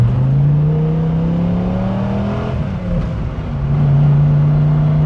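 A Dodge Viper pulling out into traffic, a loud, close engine drone rising steadily in pitch under acceleration, dipping briefly at a gear change, then pulling on again.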